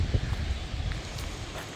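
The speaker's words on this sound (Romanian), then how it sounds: "Un pic vântul e cam mare" Strong wind on the bank of the Prut River buffets the open air in a steady, rough rush of noise, with faint rustling mixed in and no pauses.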